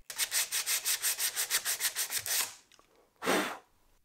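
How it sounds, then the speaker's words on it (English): Rolled sandpaper worked by hand around wooden finger pulls, making a fast, even run of about a dozen close rasping strokes, a short pause, then one longer scrubbing pass. "I had to roll up a piece of sandpaper and just kind of work my way around."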